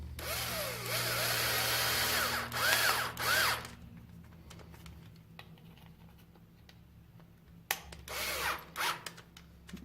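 A power drill drives a screw into an Arma Kraton V3 front bumper, a loud whirring burst for about four seconds, then quiet handling clicks before a second shorter burst of drilling.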